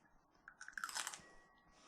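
A fresh garden pea pod is bitten into with a single short, crisp crunch, close and quiet, followed by brief chewing.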